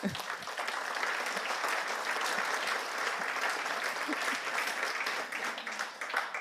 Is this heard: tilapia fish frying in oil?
no